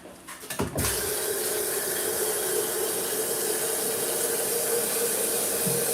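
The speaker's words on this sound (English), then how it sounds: "We're filling up more water into the kettle." Water from a tap pours steadily into a kettle in a kitchen, a continuous close rushing fill after a few brief clanks at the start, with no speech.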